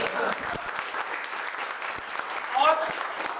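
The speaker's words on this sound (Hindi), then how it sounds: "एक बार जोरदार ताली अपने घर वालों के लिए बजाओ" A crowd of students at a CPU master class applauds loudly, steady dense clapping running throughout with a brief swell near the end.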